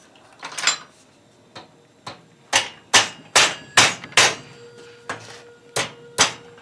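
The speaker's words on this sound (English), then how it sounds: "We're just going to take a hammer and bend those over" Metal pieces being bent over with a hammer during blacksmith work: about ten sharp, ringing hammer strikes, close and loud, coming in an uneven rhythm with brief gaps between blows.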